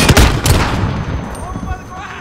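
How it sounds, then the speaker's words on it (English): Dense in-game gunfire in Call of Duty Modern Warfare, with heavy bursts of rapid shots loudest in the first half second, then thinning into scattered distant cracks and whizzing rounds. "the amount of bullets flying past me is unreal"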